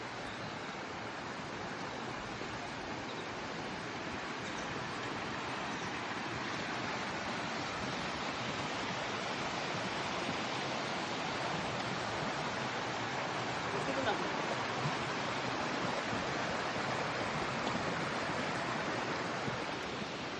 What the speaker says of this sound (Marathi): बाजूला पाण्याचा खळखळ आवाज आणि धबधब्याचे जे स्वरूप तुम्ही बघताय